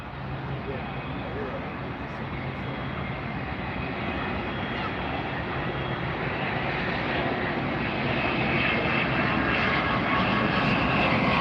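A Lufthansa Boeing 747 taxiing at night makes a constant engine rumble and whine that builds slightly as it starts to move, heard at moderate distance.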